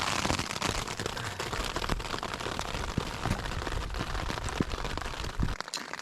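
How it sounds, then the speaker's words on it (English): Steady rain pours down during a bikepacking trip on the Plateau Passage route from Boulder City to St. George, a dense hiss with scattered sharp drop taps and crackles, close and continuous throughout. "It's raining."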